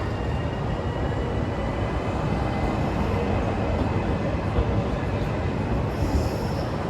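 A train arriving at platform 2 of Venezia Mestre station, a loud steady rumble of wheels on rails with a brief high squeal near the end, no voices.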